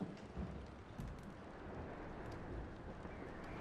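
A rainstorm in the video game Red Dead Redemption 2 gives a steady wash of rain, with low rumbles of thunder swelling at a few points, all fairly quiet and continuous.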